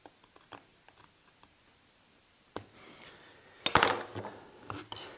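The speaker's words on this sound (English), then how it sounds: "I'm setting them in pretty deep with my knife" A marking knife scoring marks into wood for a segmented desk ring, giving sparse, faint taps and clicks followed by a few louder scraping cuts close by.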